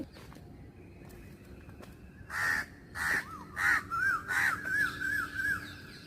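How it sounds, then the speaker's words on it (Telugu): A greater coucal calls repeatedly outdoors, a series of deep hooting notes following a few earlier sharp calls, fairly close against quiet background hiss. "అదిగో చూసారా మళ్ళీ అరిచింది ఇదే పక్షిని చిన్నప్పుడు మేము జముడు కాకి అనేవాళ్ళమండి"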